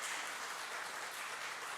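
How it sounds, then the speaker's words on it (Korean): A church congregation claps to welcome a visiting pastor during a Sunday service, a brief even wash of applause heard alone. "박수로 환영해 주시기를 바랍니다"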